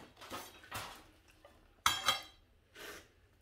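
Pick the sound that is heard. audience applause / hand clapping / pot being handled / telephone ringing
pot being handled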